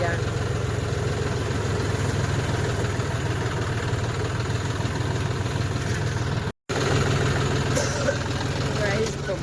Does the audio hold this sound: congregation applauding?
no